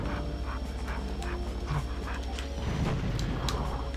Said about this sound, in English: Is that me, or are they panting like dogs?